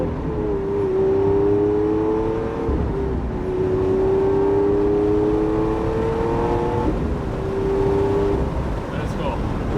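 A Lamborghini manual supercar's engine drones loudly and steadily, its pitch rising through the revs and dropping at each of several gear shifts, heard from inside the car.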